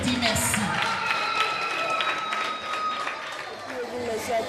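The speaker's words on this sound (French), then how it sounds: "Est-ce que vous pouvez les applaudir, les amis, pour dire merci?" A group of children at a holiday camp clapping for their instructors, a continuous crowd of hands with excited voices and chatter mixed in throughout.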